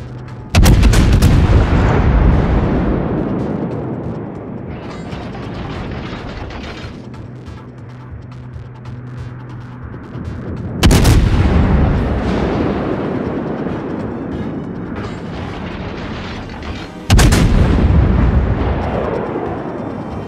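Anti-aircraft guns fire in a video game as heavy, booming blasts: three loud bursts, each followed by a long rumbling decay and a mechanical clatter in between.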